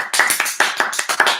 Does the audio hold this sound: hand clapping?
yes